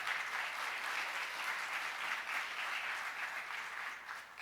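A church congregation gives a sustained round of applause at a Sunday service, steady dense clapping filling the room for several seconds before tapering slightly at the end.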